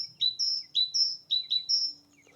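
Great tit singing nearby, a clear repeated two-note phrase delivered in quick rhythmic pairs, bright and distinct against a quiet background.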